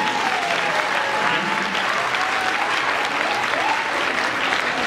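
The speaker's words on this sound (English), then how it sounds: "let's give a round of applause for this show" Steady, dense applause from a sizeable audience, loud and continuous throughout with no pauses.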